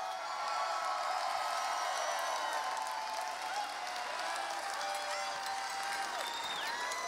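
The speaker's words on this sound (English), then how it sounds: "Give them a round of applause." A large crowd at a baseball team's off-season fan event applauding and cheering at a distance, with scattered whoops over a steady roar of clapping.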